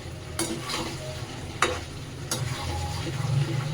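Chicken pieces for Kolkata-style chicken chaap stirred and fried with a spatula in a pan, steady sizzle under three sharp scraping clanks of the spatula, close and fairly loud throughout.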